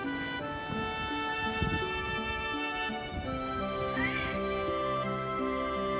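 A cat meows at a shrine on Ainoshima island, with drawn-out tonal calls close by over a steady background.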